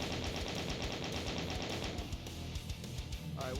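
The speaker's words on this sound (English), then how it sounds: "We'll just shoot him from here." Rapid automatic gunfire in a video game, a dense steady stream of shots that continues for most of the stretch before thinning out, at moderate level.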